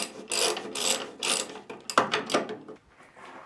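A hand ratchet working half-inch bolts loose on a Barker 612 chipper shredder, several bursts of rapid close clicking separated by brief pauses, then a few softer clicks as it eases off.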